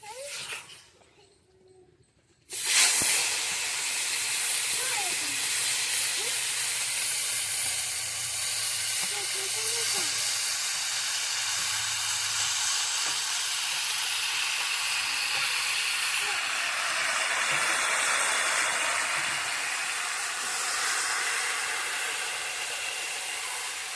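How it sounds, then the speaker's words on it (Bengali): Fish is dropped into a hot wok: after a brief quiet start, a sudden loud burst of sizzling oil erupts and continues as a steady, dense hiss for the rest of the clip. "বন্ধুরা, আমরা এবার এই মাছটাকে কড়াইয়ে দিয়ে দেবো।"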